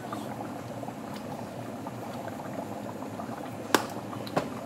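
A pot of liquid with bouillon and onion powder boils on a stove, giving a steady low bubbling rumble with a couple of sharp clinks near the end, close up and without talk.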